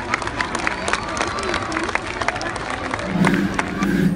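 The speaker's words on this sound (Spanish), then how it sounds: "Un fuerte aplauso para ellos." An audience claps and cheers, dense overlapping hand claps under a crowd murmur that swells toward the end, loud and close throughout.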